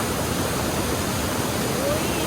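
Waterfall at Muak Lek in Saraburi, Thailand, roaring as a steady, loud broadband rush of falling water that fills the whole clip without a break.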